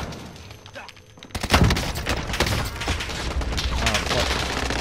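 Rapid bursts of video game gunfire crackle loud and close, a brief quiet giving way to sustained, dense volleys that run to the end, with people talking over the shooting.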